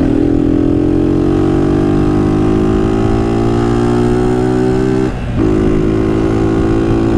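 A motorcycle engine revs close and loud, its pitch climbing slowly and steadily as the rumble builds, with a short dip in the middle before the drone resumes.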